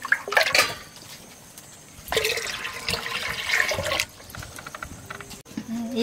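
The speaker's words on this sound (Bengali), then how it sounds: "এই জল দিচ্ছি" Water poured for cooking a climbing perch fish curry at a rural outdoor hearth, heard as a few uneven splashing bursts of moderate loudness separated by quieter gaps.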